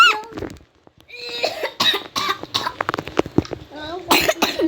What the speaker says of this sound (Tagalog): May ubo ako ngayon.